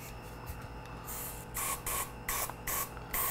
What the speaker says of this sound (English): We get our high strength hold hairspray.